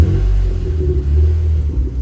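Deep, steady engine and exhaust rumble of a 2011 Jeep Wrangler Unlimited Mojave 4x4 at idle, low and throbbing, close by with no voices.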